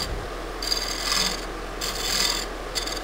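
Scraping tool working a winged burl wood bowl spinning on a lathe, a raspy rubbing scrape in three bursts, close and fairly quiet over a steady low motor hum.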